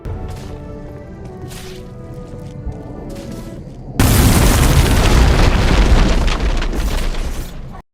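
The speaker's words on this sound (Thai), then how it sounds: "เพื่อเอาถังระเบิดไประเบิดประตูกงที่ผู้เล่นไม่สามารถเปิดได้" In the video game Guts and Blackpowder, a soundtrack hums along, then an explosive barrel blowing up a gate erupts in a loud boom and a sustained roaring blast with crackling debris follows before cutting off abruptly.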